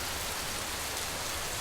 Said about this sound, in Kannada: ಕರಾವಳಿ ಮಲೆನಾಡು ಭಾಗದಲ್ಲಿ ಧಾರಾಕಾರ ಮಳೆ.